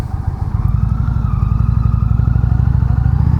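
A 2019 Indian Chieftain Limited motorcycle engine thrums loudly and close while riding, a steady low, pulsing rumble throughout.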